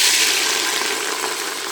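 Onions dropped into hot ghee give a loud, close rush of sizzling that settles into a steady hiss over the short span.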